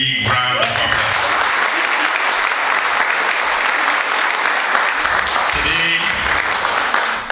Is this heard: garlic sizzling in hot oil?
no